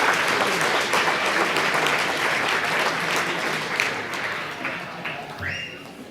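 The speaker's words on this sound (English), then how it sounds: "Can we give them a round of applause?" Audience clapping at a 2018 holiday party, dense sustained applause throughout that gradually thins and fades toward the end.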